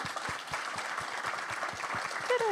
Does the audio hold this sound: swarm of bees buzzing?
no